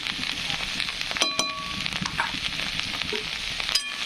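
Okra with salt and turmeric sizzles steadily in a hot pan, a continuous frying hiss broken by a few metallic clinks of a spoon against the pan.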